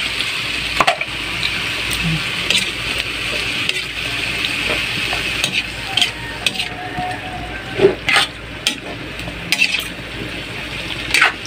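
Ground meat and green beans sauté in a pan in a home kitchen, a soft sizzle broken by scraping and clinking stirring strokes against the pan, close by, with no talking.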